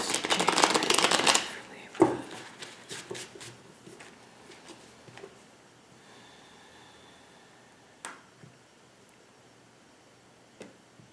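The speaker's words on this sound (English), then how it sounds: "I'm just going to go ahead and shuffle a little more here" Tarot cards are shuffled, starting with a loud burst of riffling and then settling into sparse, soft card taps and slides with quiet breaths between.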